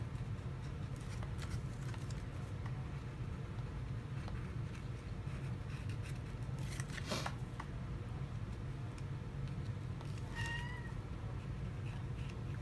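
A pet cat cries and meows indoors, a couple of short faint meows surfacing over a constant low background hum and light rustling, with no voices.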